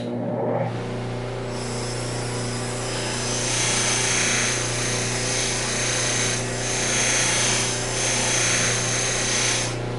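Powered buffing wheel spinning at about 1800–2000 rpm while polishing a tobacco pipe during final sizing, a steady motor drone with harmonic hum and hissy rubbing that swells and fades as the pipe is pressed against it, no talking.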